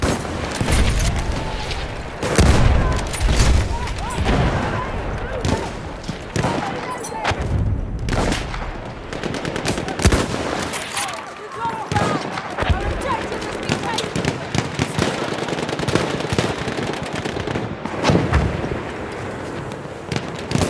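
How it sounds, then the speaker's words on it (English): Enemy machine gun fire in a Battlefield 1 battle, continuous crackling bursts and sharp shots throughout, mixed with in-game voices calling out over the din. "That's an enemy machine gun!"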